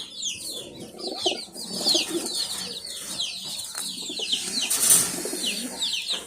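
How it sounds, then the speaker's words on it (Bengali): Pigeons in a crowded loft coo and flutter amid a busy layer of chirps and rustling, moderately near and continuous, with the calls overlapping throughout. "এই যে কবুতরটা, এটা মাদি কবুতর"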